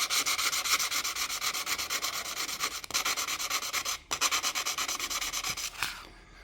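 A custom PVC guitar pick is rubbed back and forth on an abrasive hooked over a bench edge. The rasping strokes are fast, steady and close, with a brief pause mid-way and a softer finish.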